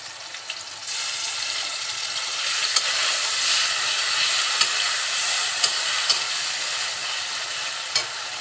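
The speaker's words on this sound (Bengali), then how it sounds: "তেলের সাথে মশলাটা খুব সুন্দরভাবে কষিয়ে নিব, যাতে মশলার কোনো কাঁচা ফ্লেভার না থাকে।" Ginger, garlic and cumin paste sizzling loudly in hot oil as it is stirred, a dense continuous fry close by with light utensil scrapes and taps throughout.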